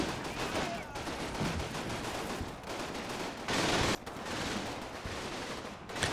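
Gunfire in Combat Mission: Battle for Normandy, a World War II tactics game, with a machine gun resuming after a reload. Dense, continuous crackle of rapid shots fills the scene, with one louder burst partway through and no speech.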